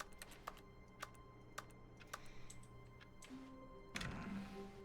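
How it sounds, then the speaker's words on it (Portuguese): Keyboard typing in the video game The Stanley Parable, sparse single key clicks spaced about half a second apart over a low steady hum, ending in a brief louder flurry. "Mano, por que tudo tem som de teclado?"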